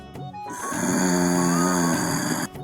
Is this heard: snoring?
yes